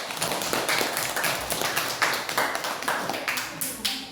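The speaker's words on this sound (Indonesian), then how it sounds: "kita tepuk tangan untuk kelompok 1" A classroom group applauds for the first group of students during a lesson, with a few seconds of steady, moderately close clapping.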